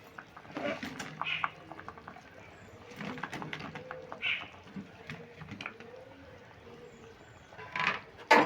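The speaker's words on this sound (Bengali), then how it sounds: "এটা ফুটছে" Curry gravy bubbling in a pot on a gas stove, soft intermittent blips and gurgles close by, fairly quiet, with faint clatter near the end.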